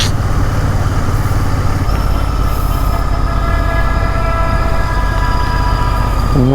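A train runs past close by on the Srisailam ghat road through a tiger reserve forest, a loud continuous rumble of wagons and rails with steady wheel squeal throughout and a rising screech near the end.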